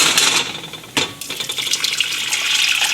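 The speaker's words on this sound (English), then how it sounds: "Now I'm gonna take that, pour this back into my pot." Homemade hot sauce poured from a container back into a cooking pot, a close, steady liquid splash and trickle with a sharp knock near the start, loud with no voices.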